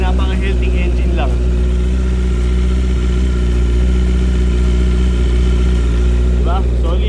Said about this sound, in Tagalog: Pakinggan nyo yung engine, guys. Walang kung ano-ano ibang tunog, kundi napaka-healthy engine lang.